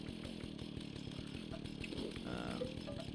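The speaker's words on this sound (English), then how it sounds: "with the chainsaw, which we did check, and that seems to still be working" Chainsaw in the Fallout video game, a steady buzzing saw drone with pulsing rhythmic strokes running throughout, fairly loud and continuous with no talk over it.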